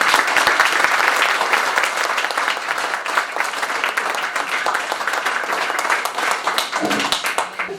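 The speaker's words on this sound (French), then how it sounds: "je crois qu'on peut tous les applaudir." Loud, dense audience applause at a spring art salon, sustained clapping from a sizeable crowd that continues for nearly eight seconds before tapering slightly at the end.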